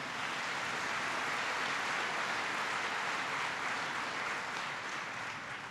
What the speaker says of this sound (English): Give the mayor a big round of applause.